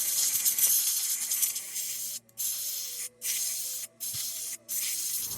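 EM Zone brake parts cleaner hissing from an aerosol can onto the brake of an MS260 chainsaw, a long loud spray and then a few short, evenly spaced bursts with brief silent gaps between them.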